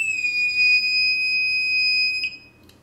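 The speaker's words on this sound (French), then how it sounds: "le buzzer, je m'en souviens, il faisait un bruit très fort" A loud, piercing piezo buzzer on an Arduino with a pyroelectric sensor shrills in one continuous high tone for about two seconds, then cuts off abruptly.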